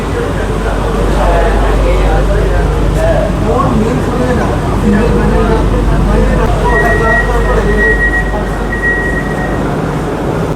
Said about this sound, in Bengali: ট্রেন এখন আসলো কল্যাণী স্টেশন